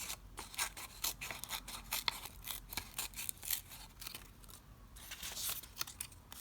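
Scissors snip repeatedly through paper in quick, close cuts while making lasagna-style layered squiggles, a steady run of sharp crisp snips with no talking.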